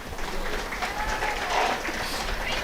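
Spectators at a high school football game between Ocean City and Mainland applaud an injured player as he walks off, a steady round of clapping from a distant crowd.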